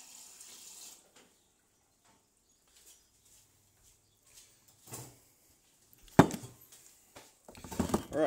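Water runs from a tap into a container to dilute a spirit: a soft, steady flow at the start, then louder splashing bursts near the end, with quiet gaps between.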